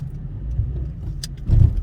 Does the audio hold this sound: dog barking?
no